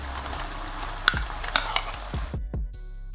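Chicken fries in a hot pan with marinade, oil and a splash of water, a broad sizzle under a few scraping stirs and taps of the utensil, close up, with the hiss cutting off near the end.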